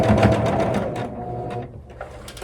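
A sewing machine stitches quilt-block fabric with a quick close rattling hum that runs for about a second and a half before slowing and stopping.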